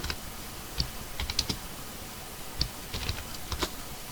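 Faint, scattered keystrokes on a computer keyboard while typing in MATLAB, irregular clicks in small bursts over a quiet background hiss.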